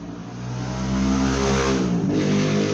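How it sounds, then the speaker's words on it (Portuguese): A motorcycle passes by on a nearby street, its mid-pitched engine rising and swelling as it approaches, then holding loud as it goes past, with no talk over it. "agora acabou de passar uma moto aí"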